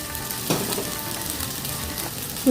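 Ching's noodles go into a hot pan and are stir-fried, giving a steady close sizzle with a couple of soft knocks of the utensil and a brief sharper clatter at the very end.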